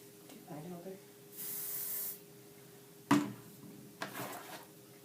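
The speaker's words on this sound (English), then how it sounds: "You're going to spray the sides, and you want to comb it down." Hairspray hisses from a can in one sustained burst of about a second onto the sides of hair being combed down for a ponytail, with softer handling noises and a few knocks around it.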